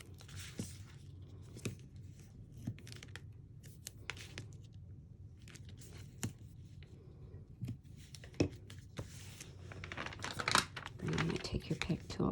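Crinkly peeling and tearing of double-sided tear and tape on a handmade paper card, with scattered close rustles and clicks throughout while a person talks over it.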